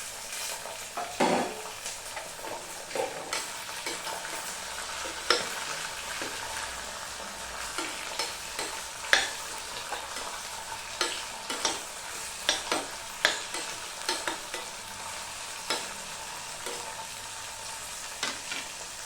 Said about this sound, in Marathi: त्याच्यावर टाकते आता गाजर, शिमला मिरची आणि हे पण तेलावर चांगलं फ्राय करून घ्यायचं